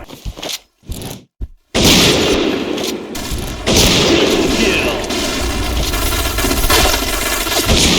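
Rapid gunfire and explosions in a shooting video game, dense and loud bursts after a choppy start, with game voice callouts mixed in.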